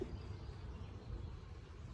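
A steady, low buzz of honeybees at an open hive hums continuously, like many bees droning nearby, with no voices.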